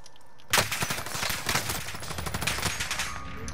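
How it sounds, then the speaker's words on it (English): Rapid automatic gunfire rattles in bursts in the video game Call of Duty Modern Warfare, loud and close, with fast cracking shots running on nearly without pause after a sudden start. "I'm getting shot in the ass, man."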